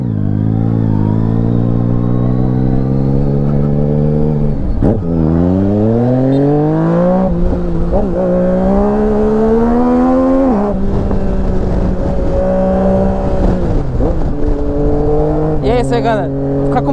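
A Yamaha Tracer 900 GT 2023 motorcycle engine with a remap revs up repeatedly while riding, its pitch climbing and dropping as it shifts through gears in a continuous roar.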